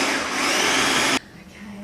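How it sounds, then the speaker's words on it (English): A food processor whirs loudly and steadily as it mixes sugar-free, dairy-free, gluten-free carrot cake batter with fresh eggs, running for about a second before cutting off abruptly into quiet. "In the food processor for 10-20 seconds."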